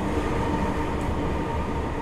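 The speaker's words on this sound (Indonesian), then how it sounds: "Lokomotif dari kereta api Dharma Wangsa tengah dilangsir" The Dharmawangsa train's locomotive being shunted gives a steady, loud rumble of rail cars and engine throughout, with no voices.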